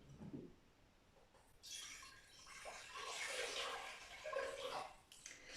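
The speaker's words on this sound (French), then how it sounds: "dans un contenant assez grand quand même, vous allez devoir mettre 2 litres d'eau." Water is poured into a fairly large container, a soft splashing gush that begins after a quiet start and keeps flowing, swelling and easing, faint and close.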